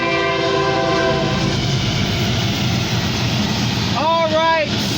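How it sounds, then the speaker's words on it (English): A CN oil tanker train on a CSX line in Erie, Pennsylvania rumbles past loudly and steadily, and its horn sounds near the end in two short blasts. "It's like a BNSF oil tanker. No, CN oil tanker train."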